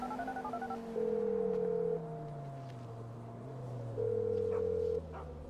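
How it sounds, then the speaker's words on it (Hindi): A phone being dialed in a video game: a quick run of keypad beeps, then two long, even ringing tones a few seconds apart over a low background hum. "यो माइकी बॉस, फोन करेंगे अभी उसे हम"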